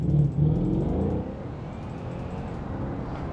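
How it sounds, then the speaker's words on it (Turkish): The Sky Turbo S engine in BeamNG.drive revs loudly at close range, with a couple of sharp surges at the start that settle into a steady, rumbling hum. "Abi motora sesler."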